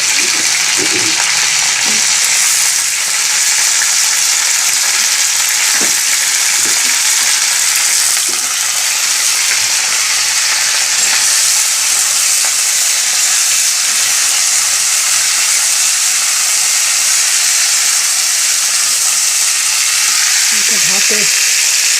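Potatoes and green chilies fry in a hot pan with a steady, loud, broadband sizzle throughout, with occasional soft stirring clinks and faint low voices underneath.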